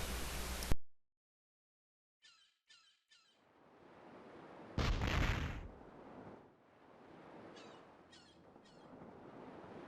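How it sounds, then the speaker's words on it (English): In the Breath of Fire 3 video game, a cannon blasts barrels away: an abrupt loud burst, then silence, a few short clicks, and a second big crashing explosion that fades into rumbling debris noise. "Blast these barrels away with Momo's cannon."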